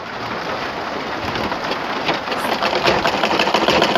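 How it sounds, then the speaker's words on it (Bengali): A sewing machine stitches a Quran cover in one continuous run, a close, loud, fast hum and patter that grows slightly busier toward the end. "কোনাটা মিল করে নিয়ে আমরা এদিক থেকে সেলাইটা আবার দিব।"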